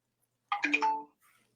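A phone's ringtone or notification chime plays once: a short, bright melodic tone about half a second long, alone in an otherwise silent moment, followed by a faint trailing sound.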